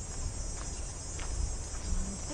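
A steady, dense insect buzz, like a cicada droning, holds at an even level throughout with no pauses and no voices.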